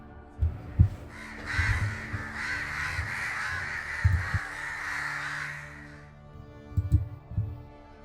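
Several crows caw loudly and harshly in short repeated bursts, with a soft throbbing thump beneath.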